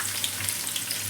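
Three small chopped onions hit hot oil in a pan for garlic rice, giving a steady, dense sizzle and crackle close by, with no voices over it.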